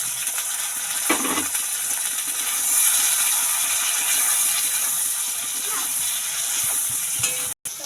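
Green peas frying in a hot pan of oil for paneer curry give off a steady, close sizzle and hiss, with a brief stirring scrape near the start and no voices.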